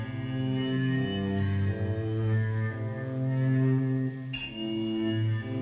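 An excerpt from a new, roughly ten-minute song made of sustained ambient noise: layered droning tones that hold and shift slowly, with a brief drop near the end before the drone returns, heard alone.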